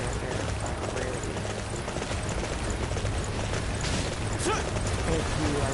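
A horse gallops fast in Dynasty Warriors, its hooves thudding in a quick, steady clip-clop under a dense wash of battle noise and clatter that continues throughout.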